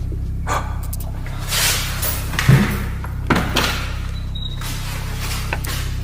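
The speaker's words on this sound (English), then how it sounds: "Like the front door, like opened and closed." A house's front door opens and closes somewhere away from the listener, giving a couple of soft, muffled thuds over a steady low background hum.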